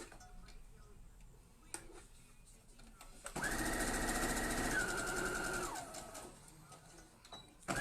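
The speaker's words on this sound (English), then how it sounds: "I'm going to just sew down that one quickly" A sewing machine runs a short burst of stitching for foundation paper piecing, a steady loud whirring hum of about two and a half seconds that rises in and winds down, with quiet room sounds before and after.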